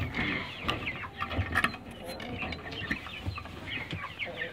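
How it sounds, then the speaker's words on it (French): Broiler chickens cluck and murmur in a busy farm coop, with scattered sharp calls and rustling throughout, fairly close and continuous. "c'est mes poulets de chair, j'en ai 25"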